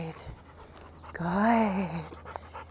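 A tired dog pants rhythmically and close by during heel training, with a short whimpering whine in the middle, while a person briefly praises it.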